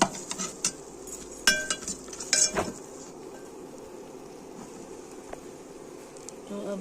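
A metal spoon clinks and scrapes against a pan as dry fruits are stirred and roasted for sweet vermicelli, with a cluster of sharp clatters early on, then a quieter, sparse stir.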